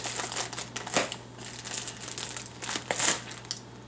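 A plastic fish bag crinkles and rustles close by as a rubber band is worked off it, with scattered soft crackles and a few sharper crinkles over about four seconds.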